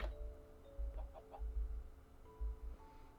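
Chickens in Minecraft cluck in short, soft bursts at irregular intervals, with faint game ambience beneath and no talking.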